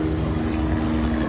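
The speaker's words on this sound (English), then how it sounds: "Aquapool Supply plane is in the sky till about 2 o'clock" A propeller plane flies overhead at a crowded golf tournament, a steady low droning hum that holds evenly throughout, with no other distinct sounds.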